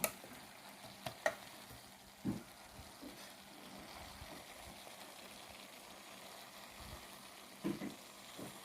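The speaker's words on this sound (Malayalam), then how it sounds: "അപ്പോൾ വഴന്നുകൊണ്ടിരിക്കുകയാണ് നമ്മുടെ സവാള" Sliced onions with a pinch of salt sauté gently in a pan for a chicken curry, giving a soft, quiet sizzle broken by a few light clacks of stirring, with no voices.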